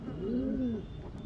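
A single pigeon gives one short, soft, low coo at close range in a quiet room.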